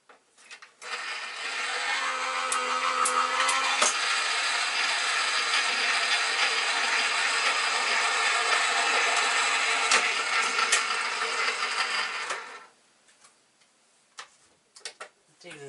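Die-cutting machine cranking a card through for a Stampin' Up! falling flowers rainbow card, a steady close ratcheting, ticking mechanical whir lasting about twelve seconds before stopping, followed by a few faint clicks.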